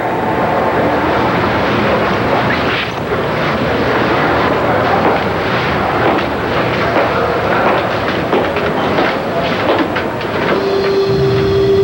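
Train rail cars running with a steady loud rumble and clatter throughout, noisy and continuous, with a brief tonal hum near the end.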